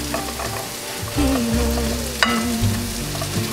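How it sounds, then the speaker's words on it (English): Green and yellow onions fry in olive oil for Korean japchae, a steady loud close sizzle with stirring scrapes through it and one sharp clack of a utensil against the pan. "here's Inhye pouring in the green onion and the yellow onion, and we're gonna mix that around in the olive oil"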